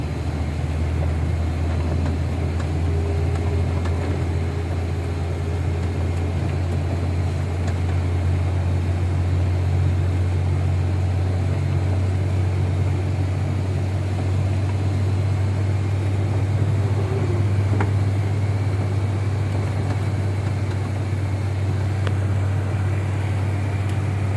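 Trucks at a pier keep up a constant low engine drone and road rumble for the whole stretch, steady and moderately loud, with faint background activity.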